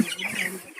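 Broiler hens on a farm give short close clucks in a brief burst, the calls soft and overlapping.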